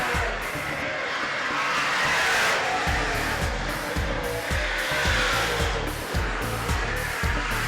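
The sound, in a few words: super saloon race cars racing at speedway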